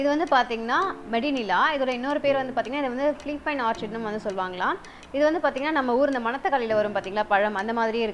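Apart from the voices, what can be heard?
None of the usual background noises is heard.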